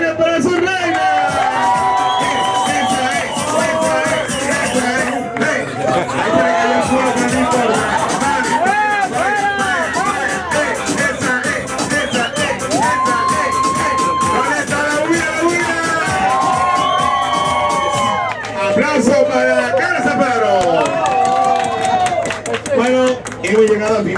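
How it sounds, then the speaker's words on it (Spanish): Lively crowd at a show in Cartagena cheering, whooping and clapping continuously, with loud voices and babble over the noise throughout. "¡Aplauso a los delfines para su reina!"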